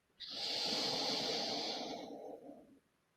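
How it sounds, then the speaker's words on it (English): A single slow, deep breath drawn in through the nose, close and breathy, lasting about two and a half seconds before tapering off into quiet. "Pause and take a breath here."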